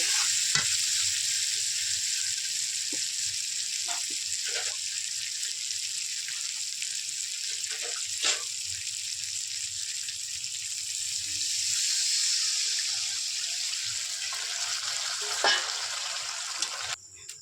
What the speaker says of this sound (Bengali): এবার আমি ডিমের মধ্যে জল ঢেলে দেব